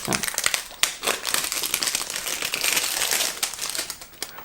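Cosmetic product packaging being opened nearby, with dense crinkling and rustling of plastic wrap and a few sharp clicks, steady and close for several seconds.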